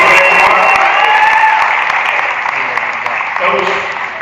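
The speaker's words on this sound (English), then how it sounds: "Let's give Jay Moore a round of applause." Applause at a SEC Country live event for Emory Jones's football commitment, a loud, steady wash of clapping with crowd noise, mixed with voices and talk throughout.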